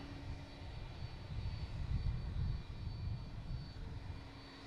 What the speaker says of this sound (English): We got Korean Airlines lining up out there.